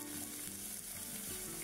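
Chopped onion sizzles and fries steadily in olive oil in a pan, a continuous loud crackling hiss with no talking over it.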